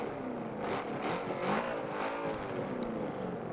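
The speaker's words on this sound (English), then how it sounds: "certainly not a bad sounding engine in this one." Zenvo ST1 hypercar with a twin-charged V8 engine in the video game Forza 7, a loud continuous engine drone that rises and falls with repeated revving swells up close.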